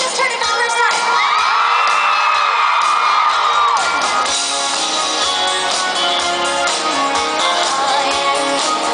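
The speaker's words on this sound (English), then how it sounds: "Scream like you just heard it for the first time." A concert crowd at a Cassadee Pope show screams and cheers loudly and continuously, with high shrieks and whoops filling the whole stretch.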